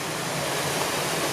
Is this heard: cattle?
no